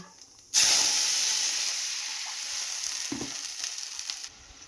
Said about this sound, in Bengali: জলটা ফুটে এসছে